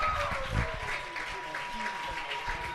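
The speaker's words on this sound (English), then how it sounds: "Crowd making some noise for Quinn Gillis" A crowd at a high school varsity baseball playoff game against Curley cheers and claps in a loose, moderate swell, heard at a distance under steady commentator talk.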